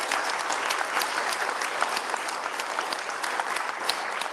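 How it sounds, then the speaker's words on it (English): A room audience applauds a panel at a policy report launch with dense, even clapping that holds steady at a strong level for several seconds. "Please, a round of applause for them."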